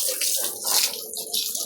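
Water sprayed onto thick-furred dogs to cool them in hot sun: a loud, close, continuous gushing and splattering of water that lasts the whole moment.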